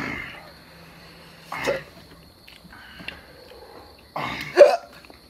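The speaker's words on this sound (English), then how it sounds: "I got them hiccups already." A man hiccups after eating ultra-hot chicken wings, with three sharp, close hiccups spaced a few seconds apart and quiet between them.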